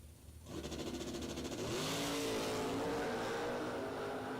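Drag race cars, including a Chevrolet Camaro, launch at the strip; the roar swells after half a second into a sustained, rising high-power engine note heard from some distance.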